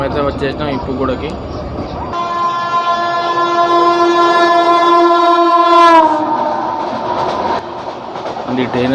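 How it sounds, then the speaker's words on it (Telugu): The Golconda Express, running between Secunderabad and Guntur, passes close by and sounds a long, loud, sustained horn over heavy rolling rail rumble, which fades afterward. "ఇప్పుడు ఇది గోల్కొండ ఎక్స్ప్రెస్ ఇది."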